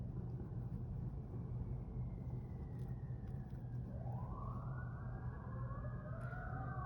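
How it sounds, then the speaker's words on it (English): Emergency vehicle sirens wail through downtown San Diego, heard from a distance, with a second rising siren joining partway through over a constant low city rumble. "there's the sirens. You can probably hear downtown San Diego."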